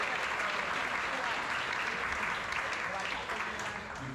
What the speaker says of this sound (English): Let's give her a round of applause for the great job that she did.